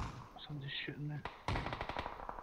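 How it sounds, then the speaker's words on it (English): Rapid gunfire bursts in the video game PUBG, played on Stadia, start midway as sharp clustered cracks after a brief stretch of voice, close and fairly loud. "Somebody's shooting me."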